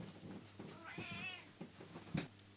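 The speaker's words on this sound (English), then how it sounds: "My cat is here." A house cat gives one drawn-out, wavering meow at moderate volume, followed by a couple of faint soft noises and a brief knock, with no one talking.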